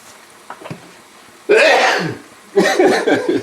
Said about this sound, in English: I don't think I've ever sneezed on one of my shows before.